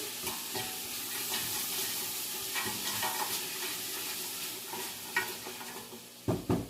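Chopped peppers sauté in a pot for butternut squash chili, a soft continuous sizzle under scraping stirs, with louder clacks of the utensil near the end.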